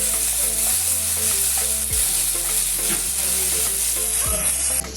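Spinach puree for palak paneer going into a hot pan, bringing on a loud, steady sizzle and frying hiss with stirring scrapes, under strong, constant background music.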